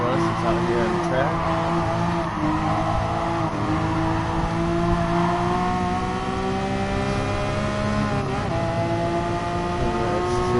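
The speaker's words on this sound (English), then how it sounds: "Burning up the pavement today with my Porsche 911 GT3" A Porsche 911 GT3 at speed on a race track, its engine note rising and falling steadily through gear changes and revs, loud and continuous throughout with faint talk underneath.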